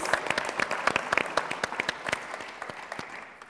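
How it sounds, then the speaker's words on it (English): An audience at an evening dance tribute event gives a round of applause for a performer, with distinct, close claps that pop steadily and then taper off toward the end. "Can we give another round of applause for Nia-Amina?"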